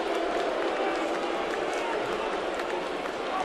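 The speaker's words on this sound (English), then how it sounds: "Crowd reacts to Johnson's name." A baseball stadium crowd in Toronto, at a 2013 Rays at Blue Jays game, roars steadily as pinch hitter Kelly Johnson is announced. The broad crowd noise carries a distant scatter of applause, with a voice faintly underneath.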